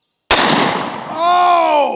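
A replica Doom Slayer double-barrel 8 gauge shotgun fires a single very loud, close blast loaded with swan shot. The sharp crack trails into a ringing, metallic tail.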